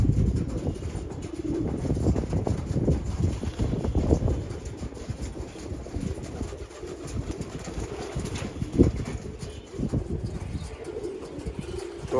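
Domestic pigeons, males and females kept together, coo softly in low repeated murmurs amid steady rustling background noise, with no talk.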